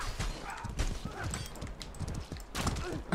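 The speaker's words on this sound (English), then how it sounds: "I saw a horse coming towards me" Horse hooves in the medieval combat video game Mordhau, a steady clip-clop of galloping under dense battle noise and distant clatter. No one talks.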